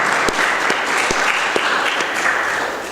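An audience at a panel event bursts into steady applause, a dense, continuous wash of clapping hands that holds at full volume for the whole stretch.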